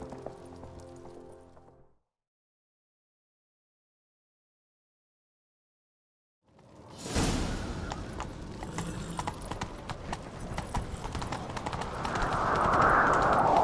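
In The Witcher 3: Wild Hunt, after a brief sound and several seconds of silence, horse hooves gallop in a fast, continuous, loud rhythm that builds toward the end.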